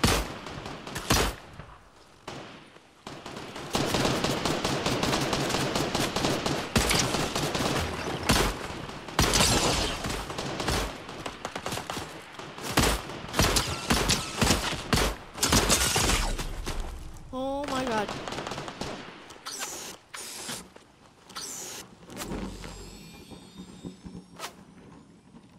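Drum gun fire in the Fortnite video game, dense sustained bursts of rapid automatic shots with other game effects and explosions layered in, loud and nearly continuous before thinning into scattered shots near the end.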